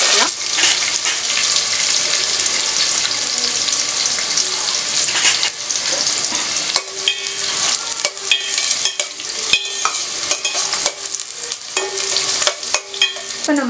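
Curry leaves and onion with cinnamon, cloves and cardamom frying in hot oil, a loud close crackling sizzle with stirring scrapes that carries on for about fourteen seconds, no voices.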